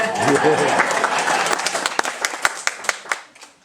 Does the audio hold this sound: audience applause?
yes